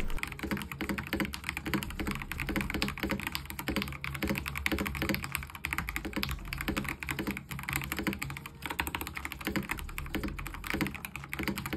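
Typing on a Skyloong SK96 mechanical keyboard produces a steady, rapid stream of clacky keystrokes, evenly paced and close up, fairly quiet with no talking.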